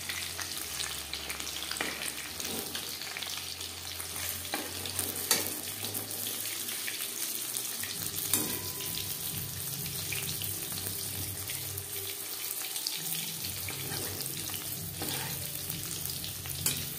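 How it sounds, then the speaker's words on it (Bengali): Marinated chicken pieces fry in hot oil over a medium flame, giving a steady, dense sizzle that holds for the whole stretch, with occasional clinks and stirring and no talking. "চিকেন ভাজবো মিডিয়াম ফ্লেমে"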